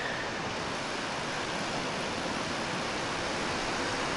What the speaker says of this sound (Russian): Река Сертек.